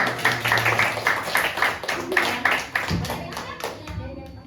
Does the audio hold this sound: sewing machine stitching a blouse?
no